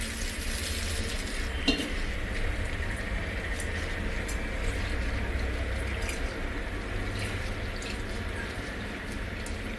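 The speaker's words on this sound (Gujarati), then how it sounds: "પાણી ગરમ થઈ જાય ત્યાં સુધીમાં આપણે દાળ અને ભાત ધોઈ લેશું।" Lentils (dal) washed by hand in water in a home kitchen, a steady wet swishing and sloshing with occasional small splashes, continuous and fairly close, no talk.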